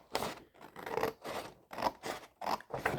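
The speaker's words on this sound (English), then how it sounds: "Okay, so we're just going to cut right on that line." Scissors snip steadily along a ruled line on paper while covering a composition book planner, a close, quiet series of crisp rasping cuts in an even rhythm.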